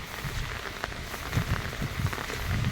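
Steady rain keeps falling during a prolonged downpour beside an overflowing waterway, a close, even hiss with scattered heavier drops tapping the surface.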